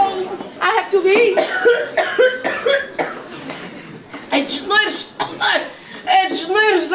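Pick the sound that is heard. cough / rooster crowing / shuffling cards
cough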